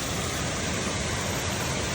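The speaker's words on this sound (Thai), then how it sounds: "อันนี้ก็จะน้ำตกที่ไหลลงมา" A small waterfall about five metres high pours steadily at Kroeng Krawia in Kanchanaburi, a dense, even rush of falling water that stays constant and close with no voices.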